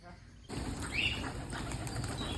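Pigeons take off and flap their wings in a sudden close burst of fluttering that continues as a busy rustle, with faint voices nearby.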